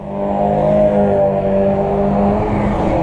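Honda H'ness CB 350 motorcycle engine running on a ride: a close, loud, smooth and steady engine drone with an even hum throughout and no talk.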